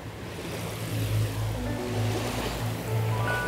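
Sea waves wash steadily around a small fishing boat out on the water off Koh Samui in the early morning, a continuous near wash of surf with a low engine-like hum underneath and no voices.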